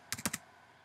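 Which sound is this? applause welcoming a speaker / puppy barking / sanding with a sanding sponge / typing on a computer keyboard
typing on a computer keyboard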